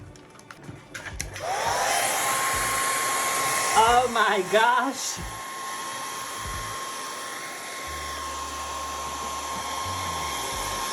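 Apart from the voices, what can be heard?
hair dryer blowing hot air on a color-changing quilt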